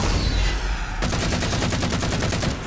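Halo 4 assault rifle on full auto, a steady rapid stream of evenly spaced shots, loud and close, starting abruptly after a burst of other game noise.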